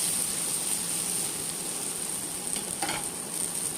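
Onions with turmeric, salt and Kashmiri red chilli sizzle steadily in a frying pan for kadhi, a continuous close hiss with a couple of faint stirring scrapes near the end.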